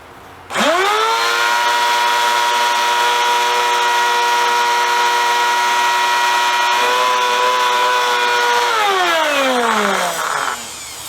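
A vacuum cleaner with a plug filter spins up to a loud, steady high whine, runs for several seconds alone, then winds down and cuts off.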